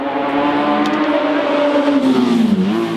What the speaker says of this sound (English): By the way, what's happening behind me is one of the big races.